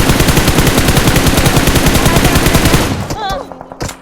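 Rapid automatic gunfire in the video game PUBG on the Miramar map, a loud continuous burst of closely spaced shots lasting about three seconds before cutting off into a few softer trailing sounds.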